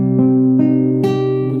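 A guitar strikes a minor chord in a few sustained strums that ring out together, close and moderately loud without talking.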